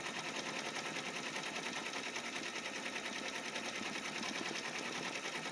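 An embroidery machine stitches a design onto a sleeve, producing a rapid, continuous mechanical chatter of needle strokes at a steady, even rhythm throughout.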